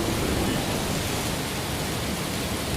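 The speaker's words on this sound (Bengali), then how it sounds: "মা, খুব বৃষ্টি হচ্ছে" Heavy rain pours in a cartoon village scene during a monsoon night, a dense, steady hiss of broadband rainfall that stays loud and unbroken throughout, with no voices.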